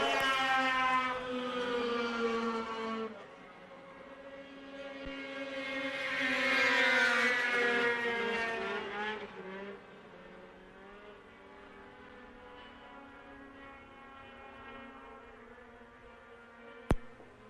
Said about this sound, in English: There's the race in turn number 3 and 4 as they come out of that turn in the Sport Formula 500B main.